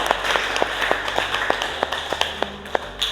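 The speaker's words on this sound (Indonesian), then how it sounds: "beri tepuk tangan dulu untuk Jihan" Light, scattered clapping in a classroom for a student named Jihan: a few sparse, distinct claps spaced irregularly over a quiet room, close and modest in volume.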